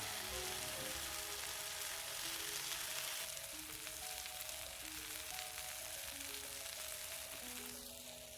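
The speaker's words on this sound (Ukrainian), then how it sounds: "вже наше м'ясо смажиться" Steady, dense sizzling of meat frying in a hot pan at a campsite, close and continuous, with crackling and popping throughout and no talking.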